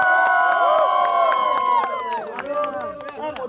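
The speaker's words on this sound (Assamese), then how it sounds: "তাৰ বাবে এটা হাত তালি লাগে সকলোৱে" A picnic crowd cheers and whoops with sustained raised voices, while scattered claps cut through close by. The shouting stays loud, then thins into looser calls toward the end.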